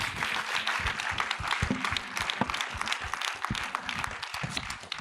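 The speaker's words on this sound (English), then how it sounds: "Let's give another round of applause for the film." An audience applauding after a film screening: vigorous, close-sounding clapping with individual sharp claps standing out, sustained throughout.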